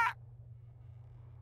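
A bird in the video game Deponia lets out one short, sharp caw at the very start, then it cuts off and only a low steady hum remains.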